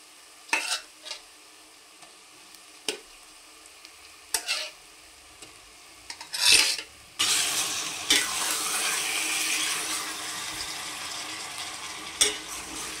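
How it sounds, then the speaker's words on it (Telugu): Pieces of murrel fish drop into a pan of oil with fried onions for a fish curry; scattered stirring clinks come first, then a sudden, sustained sizzle takes over. "ఇప్పుడు ఇందులో మనం ఈ చేప ముక్కలు వేసుకుందాము."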